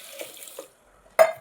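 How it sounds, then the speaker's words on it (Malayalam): Water is poured over green gram and ash gourd in a pressure cooker, a short splashing pour followed by a louder, brief gush near the end. "വെള്ളം ചേർത്ത് കൊടുക്കാം."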